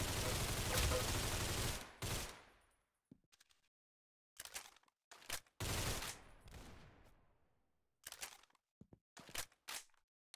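Bursts of video game gunfire in a fast shooter match, a loud sustained volley at the start followed by several short clustered bursts of shots separated by brief silences.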